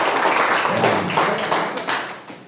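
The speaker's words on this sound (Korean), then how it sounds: "여기 박수 한번 쳐주셔야 돼요" Audience clapping at a talk on bitcoin mining, a brief burst of many hands that swells and then thins out, fairly close and without talk over it.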